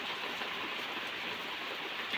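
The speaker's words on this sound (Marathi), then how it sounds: "पाऊस बघा किती जोरात आहे" Heavy rain pours down on a Konkan village in the morning, a dense, steady roar that stays even and close throughout, with no voices.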